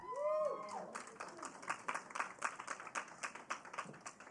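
Scattered audience clapping at the closing plenary of the Solve Challenge Finals 2019, a steady patter of hands filling the room after a brief voice at the start.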